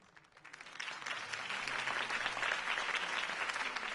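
Audience applause follows a campaign speech at a city political rally, rising from a few scattered claps into sustained, fairly faint crowd clapping.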